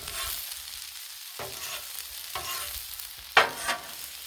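Pork fried rice fries on a Blackstone griddle with a faint steady sizzle, broken by a few sharp scraping stirs of a spatula against the hot steel.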